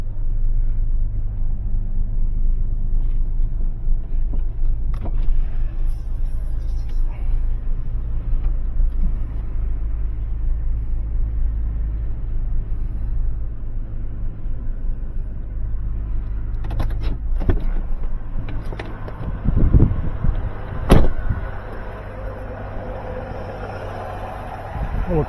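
A GMC Envoy's engine starts and runs as the SUV drives, giving a steady low rumble throughout with occasional bumps and clatter, and voices can be heard faintly at times.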